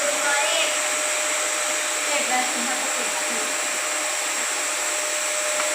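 An LG vacuum cleaner runs steadily, a loud continuous airy roar topped by a thin high motor whine, unchanging from start to finish.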